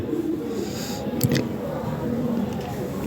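A pair of lavender Lahori fancy pigeons coo softly under steady background noise, low rolling calls near the mic, while someone talks nearby.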